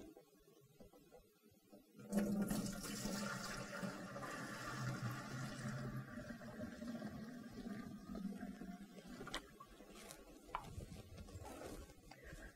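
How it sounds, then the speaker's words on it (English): Water running into a cleaning machine's tank on top of carpet shampoo, a steady gushing fill that begins abruptly and carries on for several seconds before tapering off, faint overall with a few small knocks. "Then we add in water."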